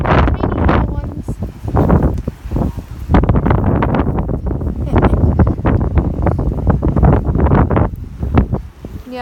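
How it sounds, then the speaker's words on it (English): Strong wind on a ranch, buffeting the microphone in loud continuous roaring gusts that barely let up from start to finish. "Yeah, it's super windy."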